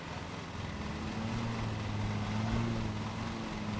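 A lawn mower engine in the Lawn Mowing Simulator video game drones steadily and faintly, straining under an overloaded engine, with a low hum that holds throughout.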